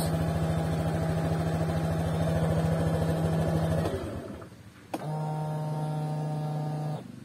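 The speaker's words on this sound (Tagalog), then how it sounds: "ang lakas pa rin ng vibrate niya kung naririnig nyo" A Honda Click 125i V3 scooter engine idles with a steady, strongly vibrating hum that cuts out near the four-second mark, then restarts after a brief click and runs on at the same level.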